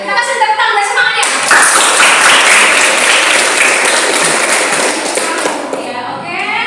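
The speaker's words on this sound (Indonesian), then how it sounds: "Kita kasih tepuk tangan dan semangatnya." A group in a classroom applauds as the first student team steps up to present, loud close clapping with some taps and thuds that swells after a spoken lead-in and fades at the end into talk.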